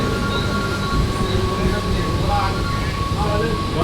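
A train rumbles at Parel railway station in Mumbai, a steady loud mechanical drone with rolling wheel noise and faint squeals, close and continuous, with voices murmuring in the background.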